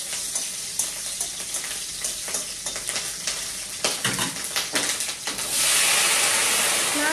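Okra frying in a pan with a tempering of garlic and green chili, no onion: steady close sizzle with scraping stir strokes, rising into a louder, dense hiss toward the end.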